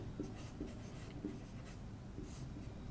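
Chalk or marker writing on a classroom board during a geography lesson, with soft scratchy strokes and light taps in an irregular rhythm, faint against steady room noise.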